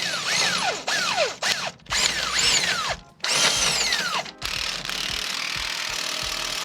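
Impact wrench with a 22 mm socket tightening shackle bolts on a Chevy Silverado suspension, several loud bursts of rapid hammering separated by short pauses.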